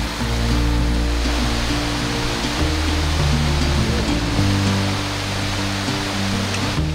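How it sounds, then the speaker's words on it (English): North Carolina waterfall pouring in a constant, loud, broadband rush, close by and unbroken, with a faint low rumble underneath and no voices. "What would you rate this waterfall?"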